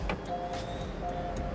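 Two short electronic chirps from an Igla immobilizer on a 2025 car after the PIN code is entered, faint tones over a low steady cabin hum, no talking.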